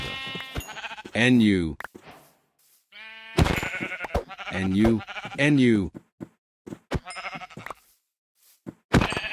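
Sheep bleating in a zombie-themed Minecraft-style video game, several wavering bleats that come and go across the clip, with a voice talking in between and over them.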